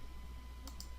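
Two quick, faint computer mouse clicks come in close succession over a low, steady hum, with no other activity around them.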